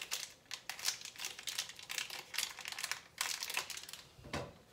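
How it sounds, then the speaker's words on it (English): Plastic packaging is pulled open by hand in a home kitchen, with close, irregular bursts of crinkling and crackling and short pauses between, and no one talking. "I'm gonna go ahead and just get it out of this packaging"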